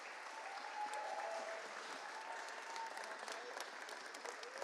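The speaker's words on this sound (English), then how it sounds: "Round of applause one more time for all of the competitors." At a UK Barista Championship 2023 regional heat in London, an audience applauds the coffee competitors with a continuous wash of clapping. It sounds fairly distant and quiet and holds steady throughout.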